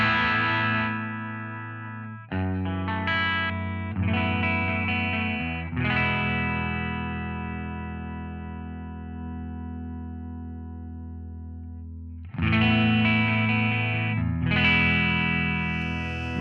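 Electric guitar through an amp with the gain turned up and a 4x10 cabinet: distorted, sustained chords ring out and slowly decay, with a few quicker strummed passages between them, loud and close, and no speech.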